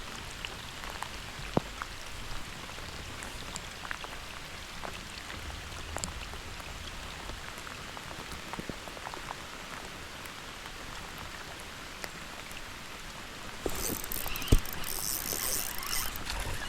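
Light rain patters softly on a surface outdoors during kayak fishing, scattered drops ticking faintly against a quiet background, growing a bit denser near the end.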